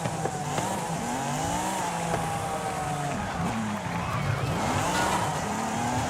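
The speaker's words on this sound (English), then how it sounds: "10-speed, naturally aspirated Honda NSX" A naturally aspirated Honda NSX with a 10-speed gearbox in Forza Horizon 5 drones steadily as it revs and shifts, with the engine note rising and falling, a faint tire squeal, and a voice talking over it at times.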